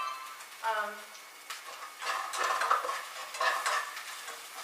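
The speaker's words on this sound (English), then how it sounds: "I'm going to introduce an ingredient at a time in here and let it just stir fry" Vegetables stir-fry in a hot pan for a vegetarian dish, a crackling sizzle with scraping stirs of a utensil over the pan, close by, with a faint voice briefly at the start.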